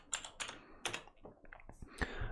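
A short burst of keystrokes on a computer keyboard as the pwd command is typed into a Linux terminal, with a few quick, crisp clicks close by followed by lighter taps.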